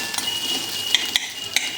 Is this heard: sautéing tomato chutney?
yes